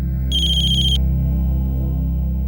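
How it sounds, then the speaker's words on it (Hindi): A phone ringtone sounds for an incoming call: a brief bright electronic tone burst over a steady low hum, close and clear, with no talking. "बाबा का फोन आया है।"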